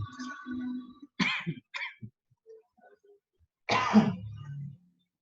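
A few sharp coughs and throat clearing, then a longer, harsher coughing fit after a pause; close by, no talking.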